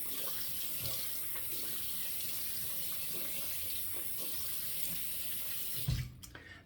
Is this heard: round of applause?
no